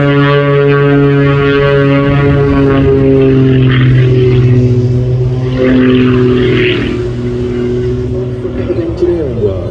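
A propeller aircraft arrives at the Clacton airshow with a loud, steady droning hum, strong harmonic tones holding throughout, while a voice speaks over it.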